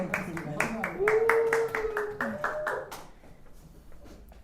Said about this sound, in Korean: 박수해 주면서 맞이하도록 하겠습니다